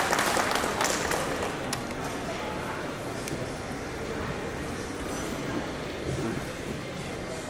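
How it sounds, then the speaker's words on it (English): Audience applause at a panel discussion on innovative technology in sewage and effluent treatment plants, a steady dense clapping that fills the room, with a voice speaking faintly underneath. "So welcome all with a round of applause."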